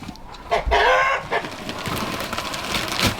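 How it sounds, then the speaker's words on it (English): A nearby rooster on a farm gives a loud crow, followed by softer clucking and scratchy farmyard sounds. "If that rooster would ever be quiet."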